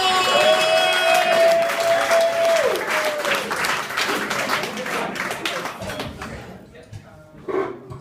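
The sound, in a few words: audience applause at comedy show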